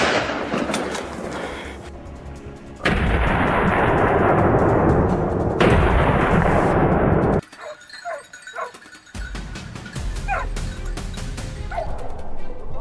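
Single gunshot fired at a wild boar during a farmland hunt, a sharp loud crack ringing out amid steady broadband outdoor noise, followed by a quieter stretch with scattered bird calls.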